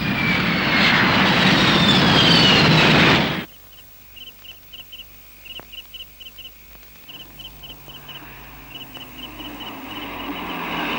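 A loud aircraft engine roars at takeoff for about three seconds and then cuts off abruptly, leaving quiet background with faint repeated clicks.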